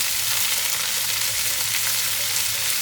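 Garlic shrimp for a tomato pasta stir-frying in a home kitchen pan, a loud, continuous close sizzle with soft stirring throughout.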